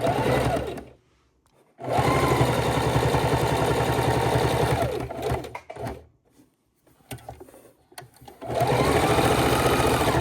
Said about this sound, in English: I'm going to turn it over and sew one more round so it has double strength of thread all the way around